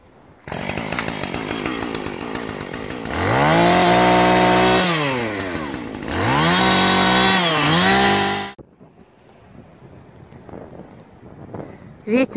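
A nearby chainsaw buzzes loudly, its engine revving up twice into heavy cutting strokes before cutting out, followed by quieter wind and rustling.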